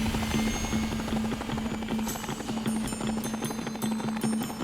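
A Vertibird aircraft flies in the game Fallout New Vegas, a loud, steady rotor thump in fast rhythmic pulses over a constant engine drone, with a thin high whine joining midway.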